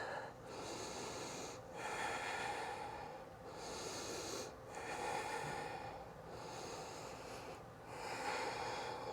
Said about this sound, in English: Cleansing breath here. Inhale, hovering table.